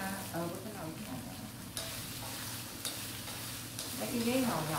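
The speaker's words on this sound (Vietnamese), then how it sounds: "Này ta gọi là trứng cút chiên nước mắm nha mọi người." Quail eggs fry in fish sauce in a pan with a steady loud sizzle, mixed with occasional stirring scrapes and soft clinks; a voice talks briefly near the end.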